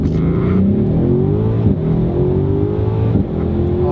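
An SUV launched hard from a standstill without launch control, its engine revving loud and close, with a steady rising drone as it accelerates and no talk over it.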